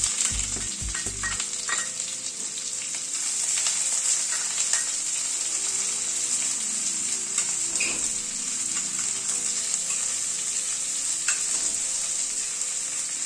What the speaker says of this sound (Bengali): গ্যাসের ফ্লেমটাকে মিডিয়ামে রেখে পেঁয়াজটাকে ধীরে ধীরে ফ্রাই করে নেব।